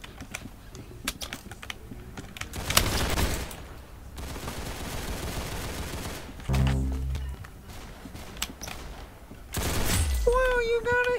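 Bursts of gunfire in Roblox Arsenal, with sharp rapid shots in several clusters mixed with close, crisp mechanical keyboard typing from a G-Lab Tungsten keyboard, and a voice speaking briefly at times.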